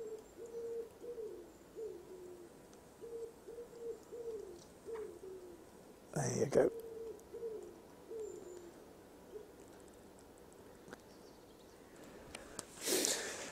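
Snowy garden with an owl hooting in a repeated series of soft, fairly distant calls, interrupted by a short noisy thump, then a few more hoots and a brief spoken phrase near the end.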